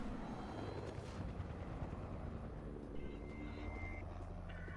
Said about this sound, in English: Oh, no, there's a helicopter.